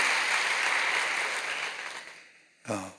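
Church congregation applauding to welcome the elders, a full wash of clapping that gradually fades out, followed by a brief spoken word at the end.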